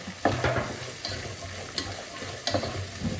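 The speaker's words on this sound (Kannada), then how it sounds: "ಒಗ್ಗರಣೆ ಮಾಡ್ಕೊತಾ ಇದ್ದೀನಿ ಹೋಯ್ತು ಈ ಟೊಮೆಟೊ ನಾನು ಹಾಕೊಂತಾರೆ" Oggarane tempering frying in a pan as tomato goes in, steady sizzle with a few sharp stirring scrapes and clinks spaced through, close and moderately loud, no talk.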